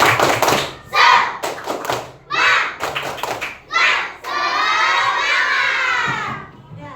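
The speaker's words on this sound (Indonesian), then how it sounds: "Yuk, kita ulang lagi, ya. Tepuk semangat." Children in a classroom perform a rhythmic spirit clap chant, with bursts of group clapping and shouting in a call-and-response pattern that ends in a long, loud sustained cheer.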